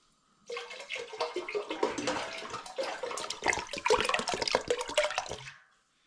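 Lime juice pours from a plastic bottle into a home-brew pot of lime and ginger lager, a close, continuous splashing gush lasting about five seconds before stopping.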